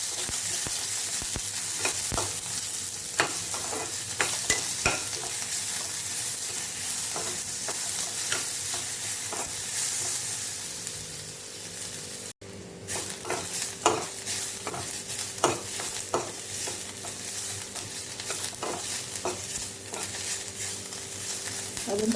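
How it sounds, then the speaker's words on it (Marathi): Onion fries in oil in a pan for a Marathi-style masala, a steady close sizzle running throughout with repeated scraping taps of stirring and a short break near the middle. "तेलामध्ये आपल्याला कांदा भाजायचा आहे."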